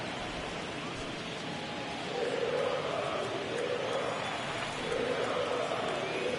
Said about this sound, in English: you can feel this crowd waking up a bit here